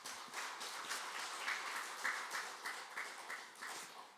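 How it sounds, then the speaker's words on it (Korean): A church congregation claps in celebration, a quiet, fairly steady patter of many hands that goes on for several seconds with no one talking over it. "축하 박수 한번 들으시죠"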